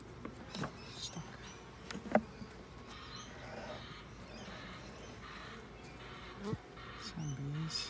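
Buzzing of honeybees around a hive under inspection fills the background, with scattered clicks and faint handling knocks of frames close by; no one speaks.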